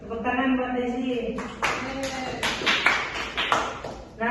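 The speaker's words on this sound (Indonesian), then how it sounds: "Tepuk tangan buat Desi." A classroom of students briefly applauds a classmate during a microteaching lesson, with a few scattered, uneven claps following a spoken voice.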